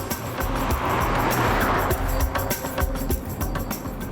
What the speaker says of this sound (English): The taxi driver's just driving like a lunatic up the road.